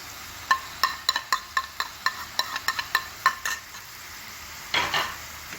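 Tomatoes softening in a pan with salt, red chili powder, cumin, black pepper and garam masala, stirred with a utensil that gives a run of sharp taps and scrapes against the pan, then a short pause and a final burst of stirring.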